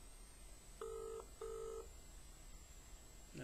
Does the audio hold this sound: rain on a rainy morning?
no